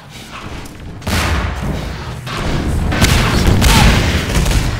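Loud RPG rocket explosions in a Half-Life 2 Deathmatch match, a sharp blast near the one-second mark followed by rolling booms and continuous rumbling detonations, close and heavy.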